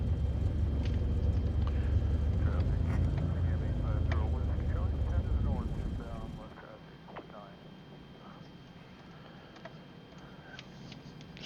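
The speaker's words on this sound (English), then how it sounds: "Cessna 162 Skycatcher." A Cessna 162 Skycatcher small airplane in flight gives a loud, steady low cabin drone with talk over it, then the drone drops away abruptly about halfway, leaving faint ticking and quiet background.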